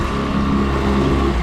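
The main motor of a 2021 Stabicraft 1550 boat runs during a water test, a steady, close, loud engine drone with a low rumble that holds even and unbroken throughout, with no talking.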